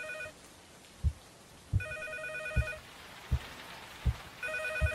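An old-style telephone bell rings repeatedly inside a building in the horror game Cycle, evenly spaced double rings over soft rain-like hiss, with low thumping footsteps beneath, moderately quiet and no talk.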